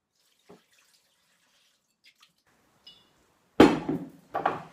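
Water splashes into a Thermomix bowl in a kitchen as 500 millilitres are poured in, a loud sudden gush that comes in two bursts after quiet clicks and small handling sounds.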